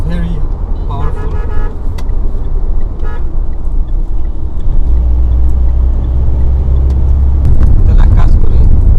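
A Mitsubishi Sportero L200 with a 4100cc diesel engine and manual gearbox rumbles steadily while driving, a deep continuous drone with a person talking over it inside the cabin.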